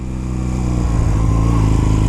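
A 2006 Honda Rebel 250 motorcycle engine idles after starting up, a loud, close, steady low rumble that swells slightly partway through.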